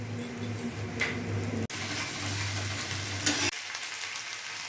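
Ginger and green chili paste frying in a pan for a Bengali-style doi rui fish dish, a steady close sizzle with faint stirring ticks that cuts off abruptly near the end.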